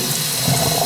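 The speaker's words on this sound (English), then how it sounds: "you gotta take your rice and you gotta clean it" Tap water runs steadily into rice being rinsed for a stir fry, a continuous close hiss of pouring water with a slight swell midway.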